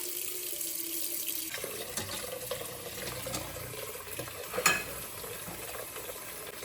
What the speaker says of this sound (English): You need a pot, fill it with water all the way to the top.